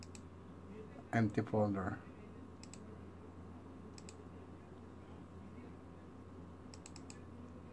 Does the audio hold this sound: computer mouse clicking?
yes